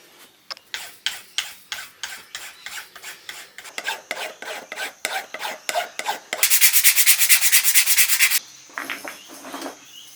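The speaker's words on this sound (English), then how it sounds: "Time for some more sanding." Rhythmic rasping strokes of hand sanding a big diving fishing lure with 140-grit paper, steady back-and-forth scrapes, then a harsher continuous rub for a couple of seconds before a few lighter strokes.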